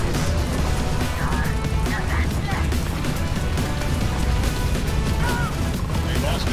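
Dense, continuous spaceship weapon fire in Starfield, manually triggered, with crashing impacts and popping bursts layered into a loud, busy barrage that holds steady throughout.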